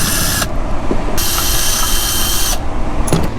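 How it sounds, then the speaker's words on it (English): A power drill bores a 1/8 inch bleed hole in a thermostat housing on a 5.9L V8 Magnum engine in a Dodge Dakota R/T, loud close whining runs broken by short pauses between bursts. "I'm gonna drill an 1/8 of an inch hole in this just so we can bleed it a little bit"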